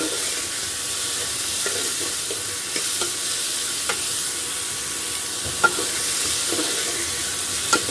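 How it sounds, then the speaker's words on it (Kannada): Soaked field beans tipped into a pan of frying onions and stirred, giving a steady close sizzle under repeated spoon scrapes and light clinks, with no talking. "ಇವಾಗ ಇದ್ಕಿದ ಬೇಳೆ ಹಾಕ್ತಿದ್ದೀನಿ"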